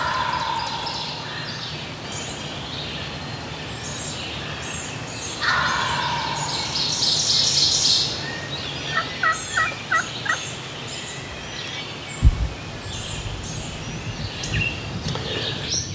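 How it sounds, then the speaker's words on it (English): Several distant wild turkey gobbles ring out over steady mountain outdoor ambience, with a quick series of clucks and a brief thump partway through. "I actually heard a bird gobbling."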